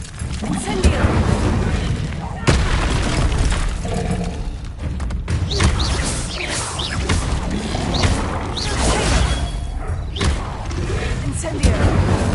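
Repeated Incendio fire spells are cast in Hogwarts Legacy, each a whooshing burst of flame with thuds and crashes, over a loud, continuous din of combat effects while a voice shouts the spell's name.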